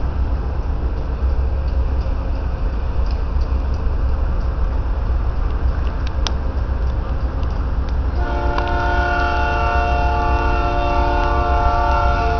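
Amtrak Crescent passenger train running eastbound on a Norfolk Southern main line, a loud steady rumble of cars rolling past close by, with a sustained horn blast sounding in the later part.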